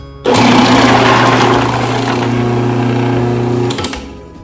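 A Robot Coupe R2 dicer switches on abruptly into a loud steady motor whine with strong humming tones, runs evenly for about three seconds, then spins down and stops.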